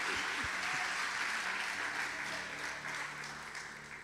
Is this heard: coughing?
no